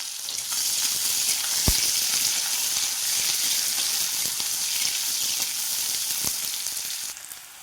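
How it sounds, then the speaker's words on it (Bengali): Chopped onion hits hot oil already seasoned with five-spice (panch phoron) while making Bengali potato chops, giving a loud, steady close-up sizzle that holds evenly, with a couple of sharp utensil taps and no speech. "কেটে রাখা পেঁয়াজটা দেওয়া হচ্ছে। এবার মোটামুটি একটু ফ্রাই করে নিতে হবে।"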